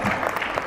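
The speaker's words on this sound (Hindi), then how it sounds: "एक बार उनके लिए जोरदार तालियां हो जाए" An audience at an annual day celebration applauds in a steady patter of clapping, filling the moment briefly at moderate loudness.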